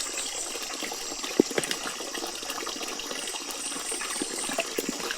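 Natural mountain spring water flowing steadily outdoors on a trail near Mt. Dinor, Santa Cruz, Davao del Sur, a soft continuous trickle with a few small splashy bursts, fairly quiet and without talk.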